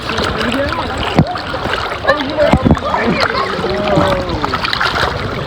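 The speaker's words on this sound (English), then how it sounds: "it's really hard to paddle against the current." A paddle splashing water while paddling against a cold spring current on a river, close splashes and sloshes under people talking nearby.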